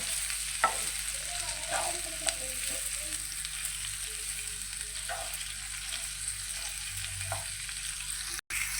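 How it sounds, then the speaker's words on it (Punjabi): Okra stirred and frying in oil for a home bhindi sabzi, a low continuous sizzle with scattered scraping and tapping strokes of the spoon against the pan, no talking. "ਭਿੰਡੀਆਂ ਨੂੰ ਆਪਾਂ ਚੰਗੀ ਤਰ੍ਹਾਂ ਮਿਕਸ ਕਰ ਦਾਂਗੇ ਇਸ ਤਰੀਕੇ ਨਾਲ ਤੇਲ ਦੇ ਵਿੱਚ"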